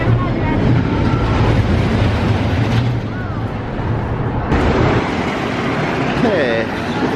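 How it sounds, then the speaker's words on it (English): The Apocalypse roller coaster train at Six Flags Magic Mountain roars through the station in a loud, continuous rumble and rattle, with people's voices and shouts mixed in nearby. "The train actually goes right through the station here."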